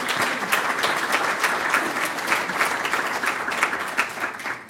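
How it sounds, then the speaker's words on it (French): An audience at a presentation on decarbonising neighbourhood energy claps warmly, a dense, even round of applause lasting a few seconds before it starts to fade. "On peut vous applaudir."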